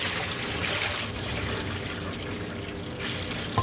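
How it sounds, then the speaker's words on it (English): Water drains steadily out of soaked raw potato chips being strained for French fries, a continuous close trickle and splash with an even, unbroken wash of sound. "at this point all we're going to do is strain our potatoes"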